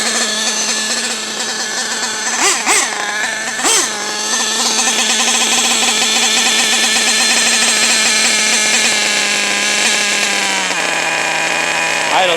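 A modded RCR 28.8 Rex Legend nitro engine runs at a high idle, a loud, sustained buzzing whine that holds steady with small pitch shifts and a couple of brief revs, heard close up and alone.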